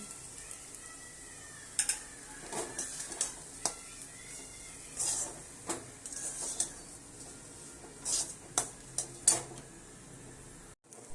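Semolina is stirred in a pan with fried onion and chili, giving a soft sizzle and a spoon scraping and clinking against the pan in scattered short strokes, close and moderately quiet.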